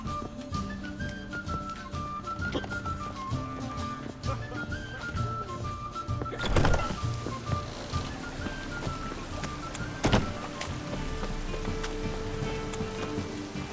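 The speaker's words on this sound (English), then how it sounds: "Looks like rain." Rain falls steadily in The Witcher 3 video game, a soft continuous patter under game music with a couple of louder splashy bursts.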